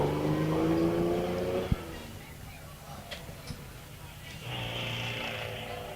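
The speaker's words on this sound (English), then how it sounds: "Distinctive four-cylinder Riley sound making his way up." A vintage Riley 9 four-cylinder car drives up a hillclimb course, its engine note fading into the distance while a commentator talks over it; a few clicks follow, then another engine rises softly.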